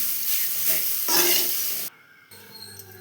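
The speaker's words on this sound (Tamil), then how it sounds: "தேங்காய் சேர்த்து நல்லா வதக்கி விடுவோம்" Grated coconut stirred and sautéed in a pan for coconut rice, a steady close sizzle with scraping stirs that cuts off abruptly near the end, leaving a quieter faint hiss.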